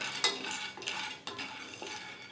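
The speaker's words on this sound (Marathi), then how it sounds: "त्याच्यामध्ये आता आपण शेंगदाणे घालूया आणि हे मसाले आपल्याला मध्यम गॅसवर असे भाजून खरपूस रंगावर भाजून घ्यायचे" Peanuts and spices dry-roasting in a pan over medium heat, stirred with a spatula in a few scraping, rustling strokes, close and steady, with no talking.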